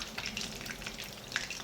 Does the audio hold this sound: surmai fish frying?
yes